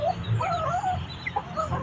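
Chickens cluck close by in a short, busy burst of overlapping hen calls with a faint farmyard murmur underneath.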